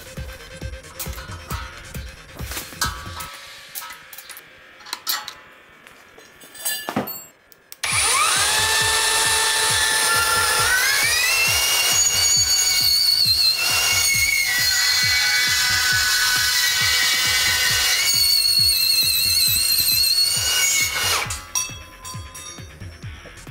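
A HiKOKI 36V cordless band saw (CB3612DA) cuts through wide material in a long, steady, loud high-pitched whine that rises in pitch and then holds, after a few seconds of quieter handling noises, before dropping away near the end.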